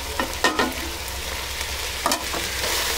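Garam masala, salt, turmeric and chilli powder being stirred into chicken biryani masala in a frying pan: a soft sizzle under a few close scraping strokes of a spoon, with no one talking.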